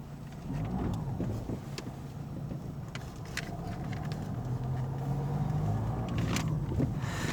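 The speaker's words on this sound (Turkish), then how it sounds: "şu an Clio 4 aracımızın içindeyiz" Inside a Renault Clio 4 with the 1.5 dCi diesel engine, a steady low cabin hum and road rumble runs throughout, with faint clicks and knocks from inside the car and no talking.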